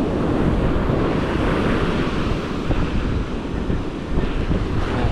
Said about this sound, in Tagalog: Lalo na yung hangin, napakalakas.